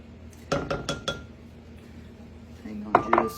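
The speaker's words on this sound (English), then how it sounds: "we're going to put in 2 eggs" Two eggs are cracked against a mixing bowl for triple chocolate mini loaf batter: a cluster of quick, close taps on the rim, a short pause, then another pair of sharp clinks.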